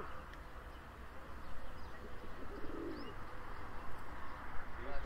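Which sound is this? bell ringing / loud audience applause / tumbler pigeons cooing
tumbler pigeons cooing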